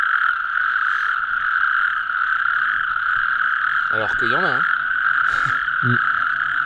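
Natterjack toads call at night at a wetland marsh, their rapid rolling croaks rising near and clear in short bursts over a steady high insect drone, with someone speaking briefly in between.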